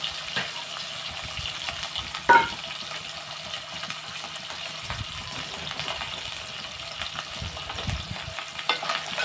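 Dried fish frying in a pan of oil, a continuous close sizzle with occasional stirring scrapes and one sharp clink of a utensil against the pan, no talking.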